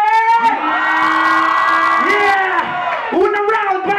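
A loud crowd at Rockets Cafe in Dubai cheers and whoops at a rap battle event, sustained bellowing voices filling the room for several seconds with a brief dip before rising again.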